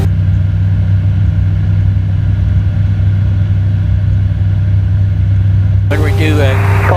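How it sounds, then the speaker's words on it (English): A light aircraft engine drones steadily during a climb on an introductory flight lesson at an aerodrome, a loud constant low hum with cabin noise throughout, and brief speech over the intercom near the end. "whenever I start climbing, it sounds like the motor's picking up speed"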